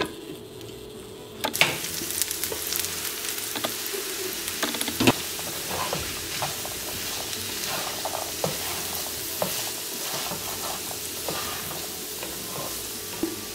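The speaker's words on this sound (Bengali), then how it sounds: "এখন মশলার সাথে বুটটা ভালোভাবে কষিয়ে নিই।" Chickpeas fry with spices in a pan, giving a steady close sizzle with scraping stirs and occasional utensil knocks throughout.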